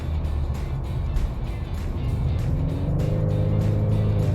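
A Ford EcoBoost car accelerates while driving, its engine droning steadily and then rising in pitch as the boost builds, loud and close with no talk.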